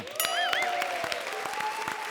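A studio audience at a Hindi television comedy show breaks into sustained loud applause, dense clapping that holds steady throughout with music or a tonal sting playing over it.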